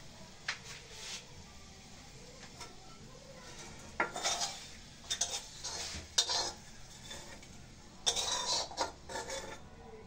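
Boiled potatoes are mashed with dried chili and fried onion, heard as scattered clinks and scrapes of a utensil against a metal bowl or pan. The sounds come in short bursts with quiet gaps between them, close by, with no talking.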